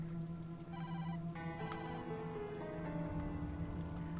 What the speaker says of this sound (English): This ringing is coming from inside.